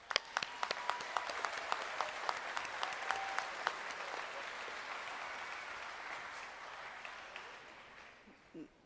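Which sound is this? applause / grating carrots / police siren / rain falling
applause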